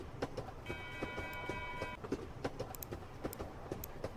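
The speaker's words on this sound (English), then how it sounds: "Alright, lads, train's here." A train arrives in the Henry Stickmin video game with rhythmic clacking wheel beats on the rails, plus a brief tonal whistle-like hum early on, heard faintly at moderate distance.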